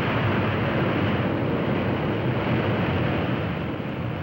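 Lockheed Super Constellation airliner reversing its propellers to brake after landing, a loud, steady broadband roar of engines and rushing air that holds at full strength throughout.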